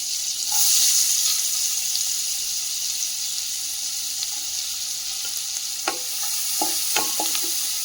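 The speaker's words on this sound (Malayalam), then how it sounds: "ഉള്ളി ഒന്ന് വാടിയ പിറകെ ചെറുതായി നുറുക്കി ഒരു മീഡിയം സൈസ് സവാള ഉള്ളി ചേർത്ത് കൊടുക്കും." Chopped medium onion sautéing in a pan with butter and garlic, a steady soft sizzle with stirring scrapes and a few sharp clicks of a spoon near the end, no talking.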